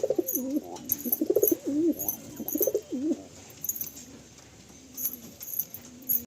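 Pigeons in a loft in Kolkata give close, soft, repeated burbling coos in clustered bursts, with faint high chirps in the background.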